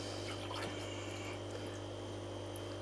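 Eheim Compact On 1000 pump moving aquarium water into fish-room tanks, a steady close hum with continuous trickling and splashing water throughout, no voices.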